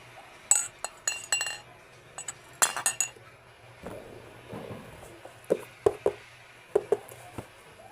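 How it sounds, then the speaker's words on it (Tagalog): A set of four new drinking glasses clinks together as they are handled and unboxed, giving sharp, bright taps in irregular clusters, close and fairly loud against a quiet room. "May 4 na baso siya"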